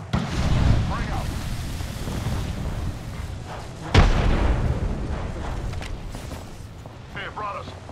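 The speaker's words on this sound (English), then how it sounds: "Throw my grenade." A grenade detonates in a sci-fi battle royale shooter with one sharp, close boom near the middle and a rumbling tail, while players talk over the game's ambient noise.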